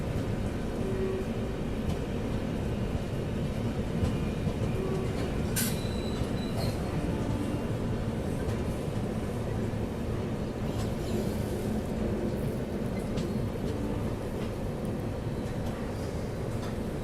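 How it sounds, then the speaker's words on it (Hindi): Passenger train, the Poorva Express, picking up speed after switching tracks, heard from on board as a steady loud rumble of wheels on rail with faint squeals and a brief sharp metallic screech near the middle. "और फिर हमारी ट्रेन ने ट्रैक चेंज करने के बाद एक्सेलरेट करना शुरू किया।"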